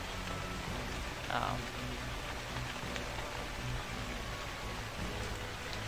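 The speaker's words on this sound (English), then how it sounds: "Oh, it's raining. Yeah, this game does have weather." Steady rainfall in the video game Kingdoms, a constant dense hiss of drops that fills the whole stretch at even loudness with no pauses.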